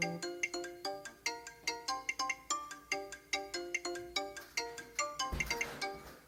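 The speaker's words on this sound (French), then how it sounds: "si j'ouvre la porte, je dois recevoir une notification sur mon téléphone" A phone notification chimes after an Aqara door sensor detects the door opening, playing a bright, loud, repeating melodic ringtone with steady plucked notes that ends in a brief clattering swell.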